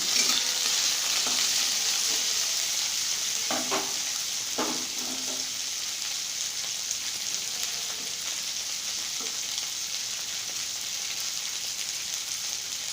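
Radish greens fry in a pan with dry chilli and five-spice seasoning, making a steady, even sizzle with a few stirring scrapes early on, with no talk.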